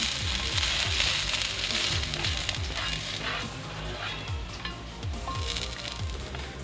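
Vegan bacon frying in a pan with ranch dressing mix, a loud, dense, continuous sizzle with crackling spatters and occasional stirring scrapes, close up and without talk.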